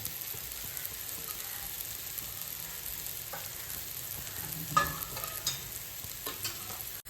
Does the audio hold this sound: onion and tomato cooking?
yes